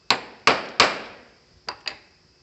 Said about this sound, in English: I'll tap the spur center